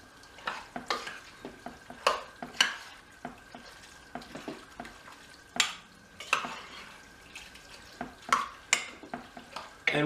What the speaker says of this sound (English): Once all your ingredients are in, you're going to mix it up really well.